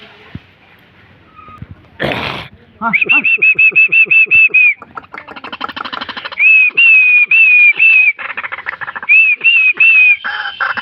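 A loud, close decoy white-breasted waterhen gives repeated bursts of rapid whistled notes, pausing between series, after a brief sharp rushing noise near the start.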